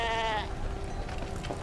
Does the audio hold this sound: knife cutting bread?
no